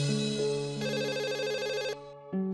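An outgoing telephone call rings back with a loud, close electronic tone pattern that shifts pitch and pauses briefly, with no voices over it.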